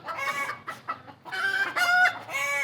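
A flock of chickens in a home garden clucks and squawks close by, with overlapping calls swelling into a louder stretch near the end.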